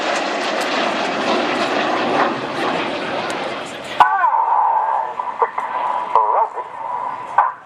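Red Arrows synchro pair jets passing upside down at the Farnborough Airshow 2014, a loud broadband jet roar for about four seconds that cuts off abruptly, followed by quieter tonal sounds from a public-address speaker.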